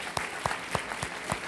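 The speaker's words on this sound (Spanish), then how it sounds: "Un aplauso para él." Sparse, faint audience claps for a guest on a talk show, a handful of separate slaps spaced out over a moment in a quiet room.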